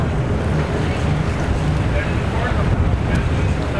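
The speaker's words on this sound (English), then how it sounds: "The wind is ripping." Strong wind blowing across a microphone at a boat show dock, a loud, steady roaring rumble with constant buffeting and no breaks.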